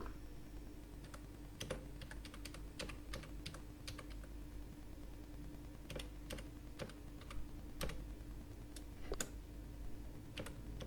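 Steady typing on a computer keyboard while an email address is entered, a run of crisp key clicks with short pauses and louder taps, close and alone over a low hum.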